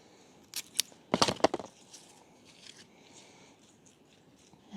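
Scissors snip through geranium stems in a few short, close, crisp cuts. A small cluster of sharp clicks comes near the start, and quiet background follows.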